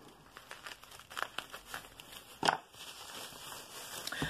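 Plastic wrapping crinkles and tears as a package of stationery is opened by hand, close and intermittent, with a sharper rip partway through and scattered rustles around it.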